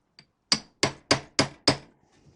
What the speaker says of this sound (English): we can just give them a little tap